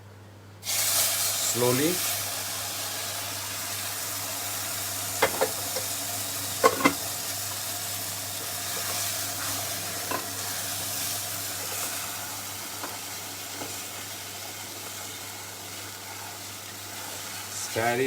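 Water poured into ghee and sugar fried in a pan, setting off a loud, steady sizzling hiss that runs on while the mixture is stirred, with a few clinks and a voice speaking briefly over it.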